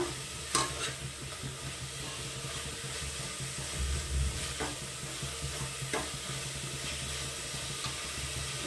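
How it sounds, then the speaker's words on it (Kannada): Ginger-garlic masala frying for palak pulao, a soft continuous sizzle with occasional spoon taps and scrapes against the pan, faint and close, no talking. "ಶುಂಠಿ ಬೆಳ್ಳುಳ್ಳಿ ಎಲ್ಲ ಹಾಕಿರ್ತೀವಲ್ಲ, ಸ್ವಲ್ಪ ಸ್ಮೆಲ್ ಹೋಗೋಂಗೆ ಚೆನ್ನಾಗಿ ಫ್ರೈ ಮಾಡಬೇಕು."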